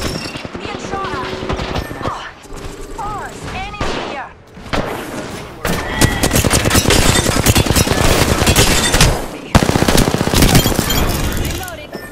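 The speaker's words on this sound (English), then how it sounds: "Being shot at." Apex Legends battle with dense bursts of automatic gunfire and rapid shot volleys, loud and close, building into sustained heavy firing, mixed with game voice lines and other game sounds.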